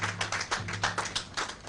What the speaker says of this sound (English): Please, a round of applause for ASE.